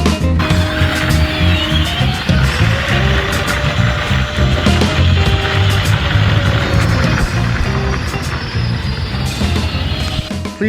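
A gas-powered 62HP four-wheel-drive Power Wheels Jeep revs and drives off-road, its engine droning loudly and continuously with shifting tones and rattling clatter throughout.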